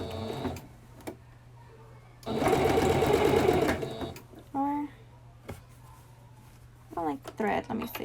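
A sewing machine stitches fabric in short bursts: one sustained whirring run of about two seconds, then brief clicks, needle taps and stop-start stitches as the fabric is pivoted, with a low steady hum and a person speaking between bursts.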